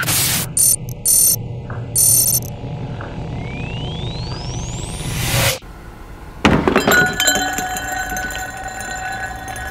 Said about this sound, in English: I'm amazed the wine glasses didn't break when they fell onto the concrete.